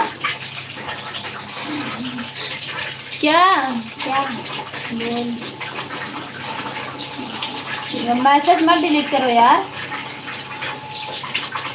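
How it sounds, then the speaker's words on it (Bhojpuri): Running water from a tap, a steady hiss of flow under close conversational voices, including someone talking near the microphone. "आवाज बहुत आ रही है। तो पानी है ना, पानी।"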